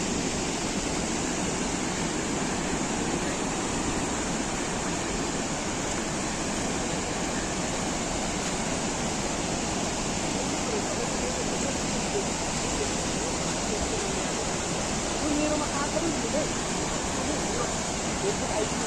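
A rain-swollen stream rushes across a road, a continuous loud roar of churning water that holds steady and unbroken from start to finish.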